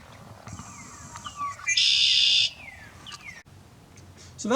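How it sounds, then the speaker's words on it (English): Red-winged blackbird calling in a wetland: a few thin descending whistled notes, then a loud buzzy trill lasting under a second, with softer call notes after it over a steady outdoor background. "Very, very distinctive call for the red-winged blackbird."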